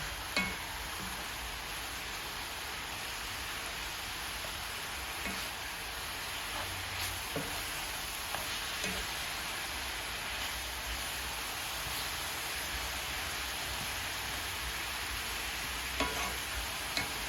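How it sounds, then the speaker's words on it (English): Steak frying in a pan for burritos, a steady close sizzle running throughout with occasional faint stirring clicks, no talking. "as you can see, our steak is cooking pretty good"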